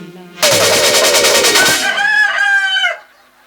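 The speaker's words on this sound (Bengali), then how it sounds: "বাড়ির ভেতর ধারি মুরগির আওয়াজ শোনা যাচ্ছে" A rooster crows loudly and close by, a long strained call that breaks into clucking, heard alone inside a house.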